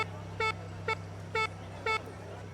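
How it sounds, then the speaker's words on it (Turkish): A car horn honks four short times in an even rhythm over a steady low engine hum in the racing game Forza Horizon 5, moderately loud. "bu dükkanın önünde kornaya 5 kez bas demiş"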